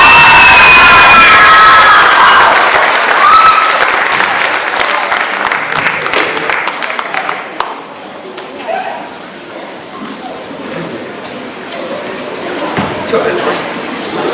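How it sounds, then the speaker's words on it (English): Loud crowd applause with cheers, whoops and children shouting at an outdoor fine arts festival for a performing group, strongest at first then thinning into scattered claps and crowd chatter. "Let's have a warm round of applause for the Silhouettes."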